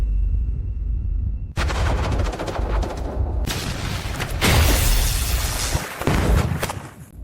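A thunder dragon heavy cannon fires in a series of loud booming blasts with dense crackling bursts and rumbling, after a brief hum at the start.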